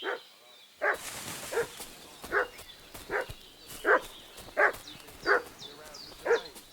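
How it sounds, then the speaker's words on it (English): A dog in Kingdom Come: Deliverance 2 barks repeatedly in a steady rhythm of about one bark per second, moderately close, with a brief noisy rustle near the start and no voices. "What's that dog making such a fuss about?"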